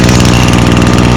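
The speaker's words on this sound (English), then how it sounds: "now I'll demonstrate that i30 recoil starter" A small two-stroke Stihl trimmer engine started with an i30 recoil starter runs loud and close in a rapid, even putter, heard briefly with no talking.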